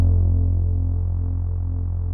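High, sustained, filtered Reese bass: one continuous, dense and steady low synth tone with a slight throbbing wobble, loud and alone for about two seconds.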